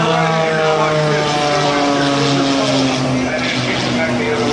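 A propeller aerobatic airplane performing at an air show roars loudly and steadily overhead, its engine pitch slowly shifting as it twists and turns, while a commentator talks over it.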